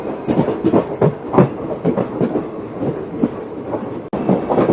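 The Madurai–Punalur passenger train at Punalur station clatters with rhythmic clickety-clack from its wheels over the rails, close and moderately loud, with no voices.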